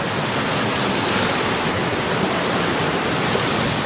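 Rushing water of a stream beside a hiking trail on the Appalachian Trail, a dense, loud, continuous roar close by with no other sounds.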